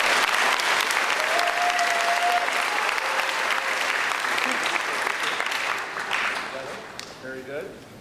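Audience at a middle school graduation ceremony applauding, a dense sustained wash of clapping from a large crowd that fades toward the end, with a voice speaking over the last moments.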